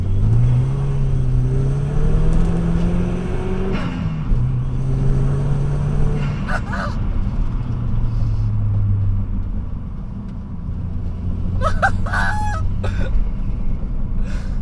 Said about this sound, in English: I don't know what's funny, the exhaust scream or the freaking flutter